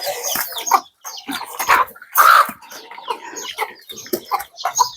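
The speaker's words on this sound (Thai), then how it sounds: "นี่ครับไก่" Chickens cluck and a rooster calls on a rural Lao farm, with repeated close, loud clucks and squawks overlapping through the whole stretch.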